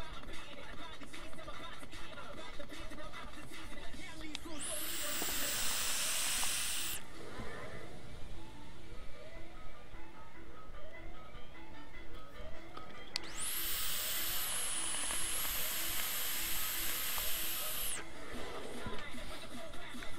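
Two bursts of airy, hissing inhalation through a vape atomizer with restricted airflow, the second longer with a thin whistling edge, close and otherwise quiet between them.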